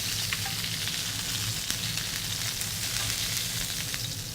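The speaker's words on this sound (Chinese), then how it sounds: "大家可以看到这个鸡腿的2面呢都被煎的焦黄的" Large chicken thighs pan-fry in hot oil until browned on both sides, giving a steady, close crackling sizzle with occasional sharper pops and no voices.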